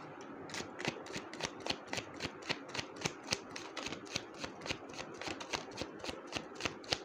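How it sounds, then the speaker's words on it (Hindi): Rider-Waite tarot cards being shuffled in a steady run of crisp riffling flicks, close and clear, with no talking. "चलिए कुछ कार्ड्स और लेते हैं राइडर वेट से"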